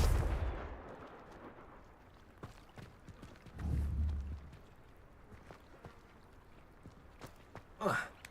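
Fiery Confringo spell blasts from Hogwarts Legacy: a low rumbling burst at the start and another around the middle, with smaller thuds between. All fairly faint and distant-sounding.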